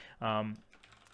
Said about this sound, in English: I will do a keyboard check for you.